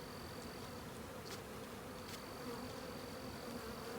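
A swarm of bees at an airport gives a faint, steady buzzing hum with no break, and a thin whine wavers in and out above it.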